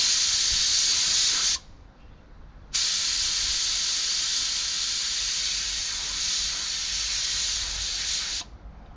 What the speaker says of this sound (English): My new colour in the gun, and we'll give him a spray.